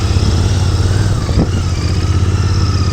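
A Royal Enfield GT650 motorcycle being ridden, its parallel-twin engine giving a steady, close, low throbbing drone with a brief rise in pitch partway through, and no talk.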